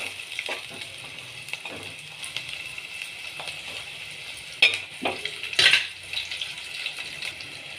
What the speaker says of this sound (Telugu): వేడి అయినాక ఇప్పుడు ఉల్లిగడ్డలు వేసి ఇలా దోరగా అయ్యేలా కలుపుకుందాని